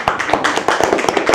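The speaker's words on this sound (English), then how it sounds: "Okay, a round of applause." A brief round of applause from the audience at a student robotics workshop event: a short burst of dense, close hand clapping.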